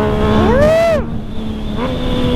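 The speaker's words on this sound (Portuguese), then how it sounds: "Nossa, moto com esse barulho daí." A Yamaha MT-09 motorcycle engine revs up hard, its pitch climbing over about a second before dropping back to a steady idle, with a short second blip near the end, loud and close.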